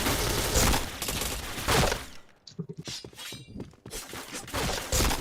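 Rapid bursts of video game gunfire in a shooter match, loud and dense, broken by a short lull with scattered single shots before the heavy firing resumes.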